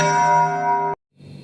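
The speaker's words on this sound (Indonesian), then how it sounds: "Bel kelas pun berbunyi." A school class bell rings with a steady, loud electric tone for about a second, then cuts off sharply into near silence. Faint background noise follows.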